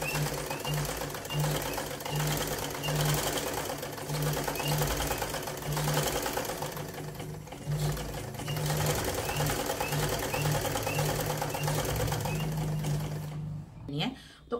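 A sewing machine runs in steady bursts, doubling the stitching along a seam of palazzo pants, with short pauses between runs and a voice talking over it.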